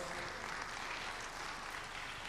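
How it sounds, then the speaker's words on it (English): Audience applause at an international quality education conference, a sustained, even roar of many people clapping together, moderately loud and unbroken throughout, with no individual claps standing out. "let's give a big round of applause."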